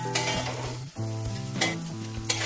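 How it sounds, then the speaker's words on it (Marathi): Finely chopped onion sautéing with green chillies in a pan for a red amaranth vegetable dish: close, steady sizzling with stirring scrapes and a brief pause partway through, no talking. "बारीक कापलेला कांदा छान परतवून घेऊ"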